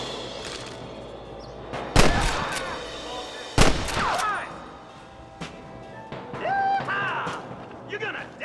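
Gunfire at rustlers in Red Dead Redemption: a few loud, sharp shots spaced apart, each a sudden crack over an outdoor ambience, with cattle and horse sounds in the background.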